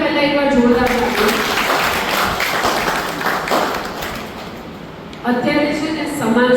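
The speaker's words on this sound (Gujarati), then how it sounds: "આ બધા માટે પહેલા એકવાર જોરદાર તાળીઓ." A seminar audience claps loudly, a dense sustained burst of applause in a hall, with a voice talking at the start and again near the end.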